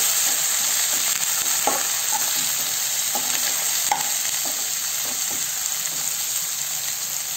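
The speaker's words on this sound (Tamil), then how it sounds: "இப்போ இதில் வந்து நம்ம இந்த தக்காளி வச்சு தக்காளியை போட்டு" Tomatoes go into a pan of browned onions for a pepper chicken dish, setting off a loud, steady sizzle with stirring scrapes and small pops, close and continuous.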